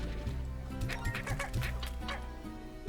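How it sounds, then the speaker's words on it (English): Chickens cluck from the video game Slime Rancher, a run of short, close calls over a steady bed of game music and ambience. "Oh, there's another chicken."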